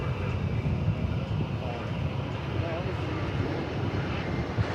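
An airliner arriving from Guadalajara at DFW Airport gives off a steady, broad engine roar, fairly loud and constant, with faint background voices mixed in.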